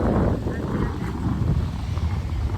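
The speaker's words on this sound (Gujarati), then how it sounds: "જોરદાર પવન છે." Strong wind buffets the microphone in a constant low rumble, loud and close, with no clear talk over it.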